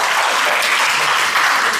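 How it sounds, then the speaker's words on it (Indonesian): A crowd applauds loudly and steadily, a dense continuous wash of clapping filling the room with no pauses and no speech. "Tepuk tangan lu dong,"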